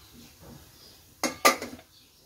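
Two sharp metallic clanks close together, like a pot or steamer lid being set down over boiling water for steaming fish, in an otherwise quiet room.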